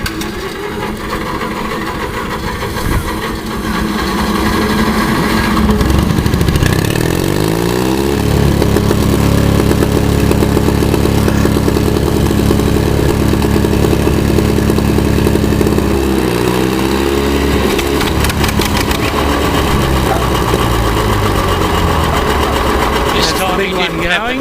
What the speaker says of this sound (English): Starting the little engine.